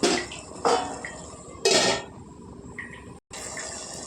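A lid clanks down onto a pot of simmering cucumber and capsicum curry, giving a few sharp, close metallic clatters spaced a second or so apart against a quiet kitchen background with no talking.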